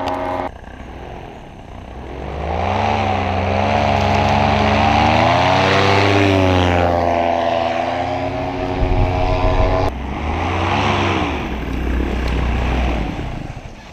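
A paramotor engine roars at full throttle through a launch and climb-out, a loud, sustained propeller drone that rises and shifts in pitch, continuous and close with no talking.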